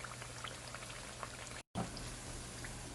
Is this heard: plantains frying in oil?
yes